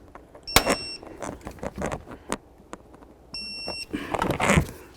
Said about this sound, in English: Once again, we're torquing this to 41 foot-pounds.